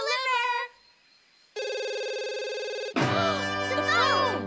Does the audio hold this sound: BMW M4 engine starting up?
no